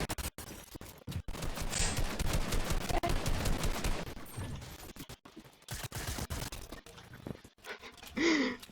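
Fortnite gunfire bursts in dense, rapid volleys through most of the stretch. Loud, sharp cracks come in clusters, with a brief lull midway before more shots.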